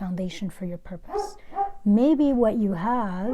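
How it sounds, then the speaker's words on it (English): Dogs bark in the background, partly masked by someone talking steadily over them, the barking and yips mixed under his voice throughout. "I apologize for the dogs barking."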